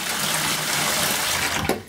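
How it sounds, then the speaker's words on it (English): Water pours steadily into a bucket for mixing thinset for a shower, a continuous close splashing rush that ends with a brief slosh. "So what I'm going to do is I'm going to first pour in some water"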